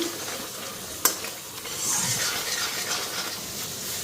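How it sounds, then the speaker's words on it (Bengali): Spice paste frying in a pan, a steady close sizzle with a sharp utensil clink against the pan near the start and scraping stirs continuing under the hiss. "এদিকে মশলাটা ফ্রাই করে নিতেছি"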